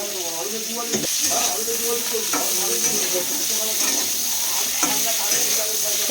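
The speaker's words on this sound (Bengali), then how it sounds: "ফুলকপিটা ভাজা হচ্ছে" Cauliflower pieces frying in a small amount of oil for a Bengali vegetarian curry, with loud continuous sizzling close up and several sharp stirring clanks along the way.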